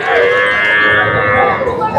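At the Poigai cattle market, a dairy cow lets out one long, loud, close moo that fills the moment with a sustained, slightly wavering bellow.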